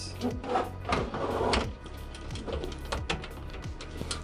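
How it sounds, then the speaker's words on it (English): A power supply unit being set into place inside a PC case, giving scattered close knocks, scrapes and clunks of metal and plastic, busiest in the first second and a half and then sparser. "Now I'm going to go ahead and install the PSU. Simply put it in the designated area within your case."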